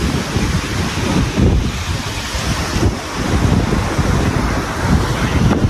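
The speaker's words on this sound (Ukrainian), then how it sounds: "Підійду ближче, підійду ближче до самого моря." Sea waves breaking on the beach at Bibione, Italy, a loud surging wash of surf with heavy wind buffeting the microphone, swelling and easing in irregular waves.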